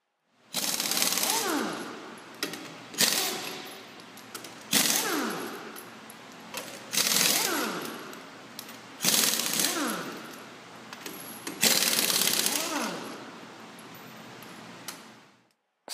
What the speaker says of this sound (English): remove the tire, one stud at a time with the air gun